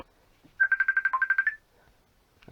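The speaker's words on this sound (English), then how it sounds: "What's this ringing me now?" A phone ringtone plays a rapid series of about a dozen bright, evenly spaced electronic beeps in one burst, fairly close, followed by quiet workshop background where a DVD writer is being taken apart.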